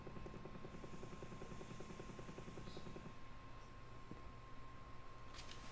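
A helicopter in the Shadowrun video game whirs steadily and loudly throughout, with a thick, continuous rotor drone filling the scene.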